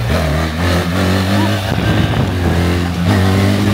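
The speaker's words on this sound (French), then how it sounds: "Tu vois, tu mets bien la moto droite, t'accélères." A BMW GS 1300 Adventure motorcycle accelerates while merging onto a city ring road, its engine droning loud and close with rising revs, mixed with wind rush and traffic noise.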